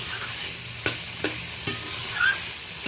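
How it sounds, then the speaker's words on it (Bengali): Crabs fry in oil in a pan over a constant sizzle, with four sharp scraping stirs of the spatula spaced about every half second. "আরও আমি 2-4 বার ভালো করে এটা নেড়ে নিচ্ছি"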